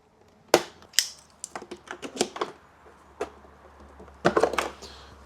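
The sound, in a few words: removing plastic clips from motorcycle body panel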